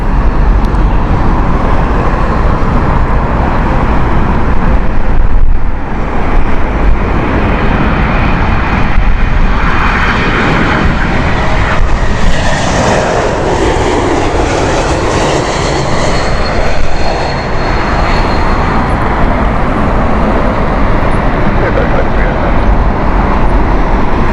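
Aircraft nicknamed the Wookiee for its engine sound passing at Heathrow, a loud sustained broadband roar with a rising and falling whine that swells mid-pass, continuous throughout.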